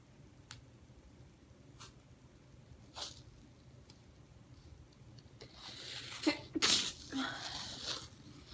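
A single close, loud sneeze cuts through after several seconds of quiet room tone and scattered faint clicks, followed by a brief muffled breath.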